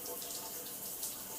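Warm shower water running steadily from the showerhead, a continuous close hiss of spray with no break throughout.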